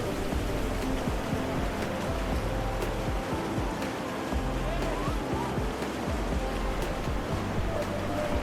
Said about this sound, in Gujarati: પર્વતોની વચ્ચેથી માં ગંગાજી ખળખળ કરતા ખૂબ જ તેજ પ્રવાહથી વહી રહ્યા છે